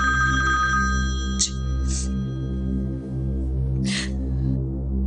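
A telephone rings close and loud in an indoor drama scene, its electronic ring repeating in short bursts over a steady background hum, with no one speaking.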